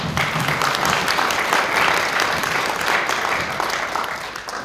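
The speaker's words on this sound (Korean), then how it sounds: "힘찬 박수로 맞아주시기 바랍니다" An indoor audience at a forum on sustainable development and ESG claps steadily for several seconds to welcome a keynote speaker. The dense applause stays even, then eases off slightly toward the end.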